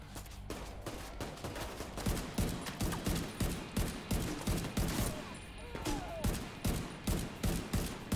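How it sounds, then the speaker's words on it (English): Repeated firing in the video game The Division 2 with a grenade launcher, rhythmic bursts of loud thumping shots in a steady cadence, fairly close, with no talk over it. "Is that you with the grenade launcher?"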